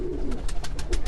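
A Gorala breed pigeon coos in a short burst of soft, pulsing notes, close by, over a steady low background hum.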